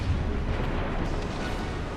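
Heavy battleship gunfire in a naval warfare video game, with a deep booming rumble and rolling blast energy that stays loud and dense throughout the short burst.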